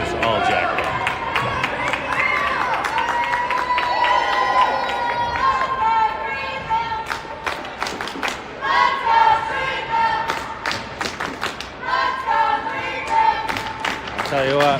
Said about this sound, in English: we got some good parents here. Cheering on their players.